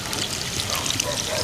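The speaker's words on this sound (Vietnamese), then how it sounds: "Cuối cùng là mình cho hết cái phần nước cốt nhất này vô ha cả nhà." Broth is poured into a pan of stir-fried frog, a steady liquid splash and trickle filling the short moment at close range, with no talk over it.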